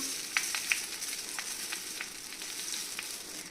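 Puffed rice frying in hot oil with curry leaves in a kadai, a steady close sizzle with a few sharper crackles and pops.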